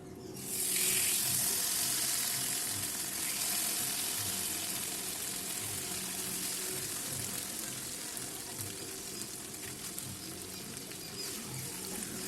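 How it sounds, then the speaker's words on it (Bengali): Taro leaves (kochu shak) sizzle steadily in hot oil in a pan, a loud hiss that flares as the leaves go in, then settles into a constant crackling fry while being stirred. "কচুর শাক দেওয়ার পর আমি একটু নেড়ে নিচ্ছি যাতে ভালো করে ভাজা ভাজা হয়।"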